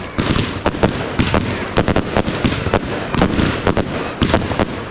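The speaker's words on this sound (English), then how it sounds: "But now in the background we've got a couple of sticks, cakes from Yorgi firing." Firework cakes from Yorgi fire at a public display in Liverpool, a dense, continuous crackle of rapid bangs and bursts carrying loud and steady throughout.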